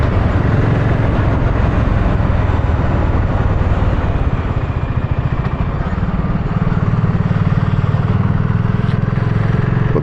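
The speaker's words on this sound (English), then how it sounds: "the one thing it has got is a real nice tone to the exhaust. It sounds absolutely beautiful." A 2024 BSA 650 Goldstar motorcycle exhausts while riding, a loud steady single-cylinder thump with a rapid pulsing beat that rises in pitch partway through as the revs climb, with no voices.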